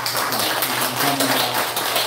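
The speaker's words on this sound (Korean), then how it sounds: "하나님께 감사의 박수 한번" A church congregation applauding in a steady, dense wash of clapping that stays loud and even throughout.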